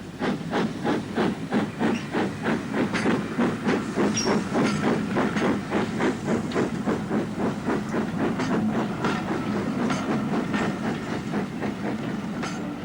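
Steam locomotive Blue Peter pulling away on a 1960s British Railways main line, a steady loud hiss of steam with rapid rhythmic chuffing and rail clatter running continuously and close throughout.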